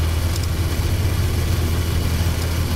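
A Honda CB1000R motorcycle engine idles in a low, steady rumble, the exhaust burbling evenly and fairly close for a few seconds.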